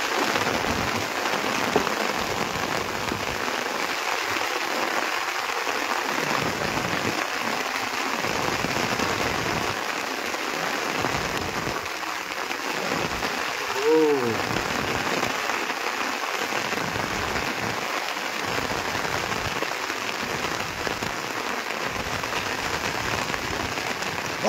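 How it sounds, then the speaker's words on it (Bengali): Heavy rain pounds steadily on a small wooden fishing boat out in the Bay of Bengal, a loud dense hiss that runs throughout with brief muffled knocks beneath. "প্রচণ্ড জোরে বৃষ্টি হলো বন্ধুরা দেখুন"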